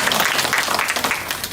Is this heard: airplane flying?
no